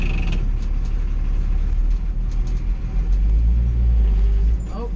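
Vehicle lurching into a low dirt hole on a full-size dirt track under construction and bogging down, with a steady loud engine rumble throughout and a slight easing near the end, with people talking over it.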